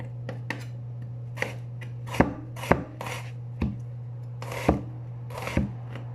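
Knife chopping food on a cutting board while making omelettes: a run of sharp, close chops at an irregular pace, a few landing harder than the rest, with no talking.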